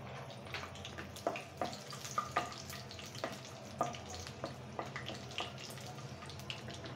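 Whole cloves and spices fry in oil in a pan for a Bengali-style chicken curry, giving a quiet, steady sizzle with scattered small pops and light clinks of a utensil.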